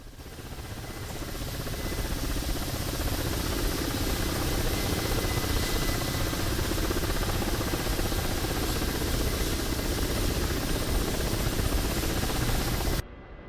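A model helicopter being flown by a beginner learning it from scratch, giving a steady loud rotor buzz and engine whine that builds over the first seconds and holds constant until it cuts off abruptly near the end.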